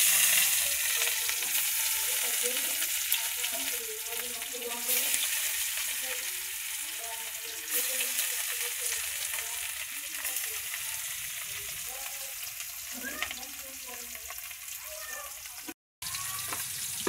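Potato, eggplant and pointed gourd fry in oil on a wood-burning stove, a soft continuous sizzle with occasional stirring scrapes and clinks, steady and close.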